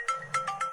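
A bright electronic phone ringtone plays a quick, repeating melodic pattern, clear and close, with no voices.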